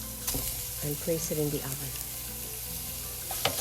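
Crumbled sausage with its casing removed sizzling in a hot pan, a steady close crackle running under a voice that speaks briefly.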